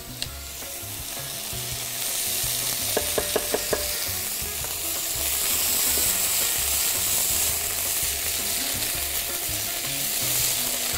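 Tomato paste and onion fry and get stirred in a pan for a stew, giving a steady close sizzle with scraping stirs and a short burst of clicks in the middle, no talking.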